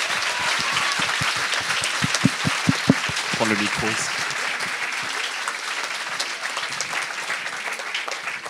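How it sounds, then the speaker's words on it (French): A university audience applauds the first-prize winner at a local final of a science talk contest, with steady sustained clapping throughout; a few sharper claps near the start and someone speaking briefly over it. "On peut encore l'applaudir, c'est quand même le premier prix."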